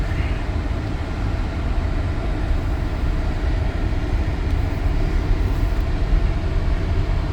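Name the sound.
2018 Chrysler Pacifica Touring driving around the block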